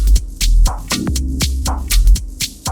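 An electric guitar played through a tiny Blackbird tube amp gives a fat, punchy tone, with rhythmic, sharply picked chugging strokes and low sustain, close and loud.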